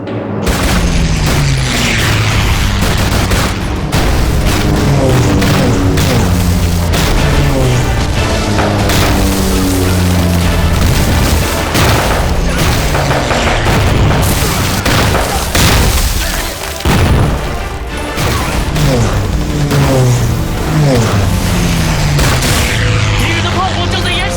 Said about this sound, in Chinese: 迫击炮连，开火！